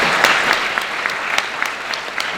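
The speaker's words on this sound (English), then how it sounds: "In fact, a round of applause." Theater audience at a film presentation giving a round of applause for supporters, a loud, close burst of many hands clapping with a few sharper individual claps standing out.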